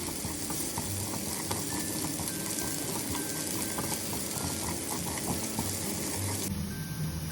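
Cashews, ginger and onion sizzle steadily in a hot pan while being stirred, a continuous close frying hiss with occasional scrapes, no voices.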